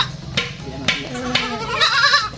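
A set of three goat kids bleats in a few sharp, wavering cries close by, one after another, with a person talking quietly among them.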